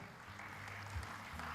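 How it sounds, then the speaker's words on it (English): An audience at an International Women's Day event applauds a speaker, a soft, even patter of many hands heard from a distance, with a low hum underneath. "Ladies and gentlemen, clap for her once more."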